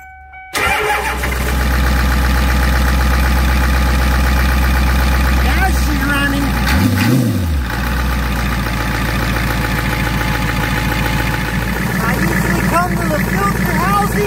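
A Ford 7.3 IDI diesel engine is started with starting fluid: after a brief crank it fires loudly and runs with a rough, clattering idle, a revving surge around seven seconds, then a steady diesel chatter.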